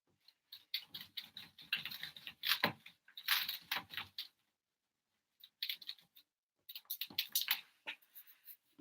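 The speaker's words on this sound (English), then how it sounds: "I'm going to go ahead and erase" Eraser rubbed across a classroom board during a math lesson, heard as bursts of close scrubbing strokes in two stretches separated by a short pause, with no talk.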